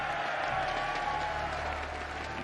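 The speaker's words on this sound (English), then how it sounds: "The crowd getting their cheer on." A packed convention-center crowd at the 2019 StarCraft 2 WCS Global Finals cheers and applauds in a steady, dense roar throughout.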